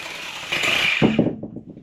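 A power tool whines briefly, then bites into copper scrap pieces with a short, rattling cut, loud and close, with no talk.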